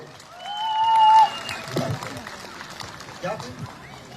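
Applause from a community audience at a ceremony honoring a Ukrainian record holder, scattered hand claps that rise under a loud amplified voice and tonal sounds, then thin out into sparse, uneven clapping.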